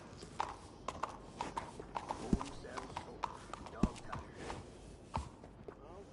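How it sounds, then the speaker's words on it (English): Horse hooves clip-clopping in the video game Red Dead Redemption 2, a steady walking rhythm of crisp hoof strikes, fairly close, with some sharper thuds at irregular intervals. "This horse will pass for nobility when I'm through."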